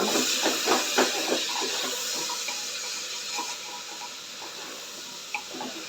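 Mixed winter vegetables for khichuri are stirred in a pot, close against a steady steamy hiss, with soft clinks and scrapes clustered near the start and scattered through the rest.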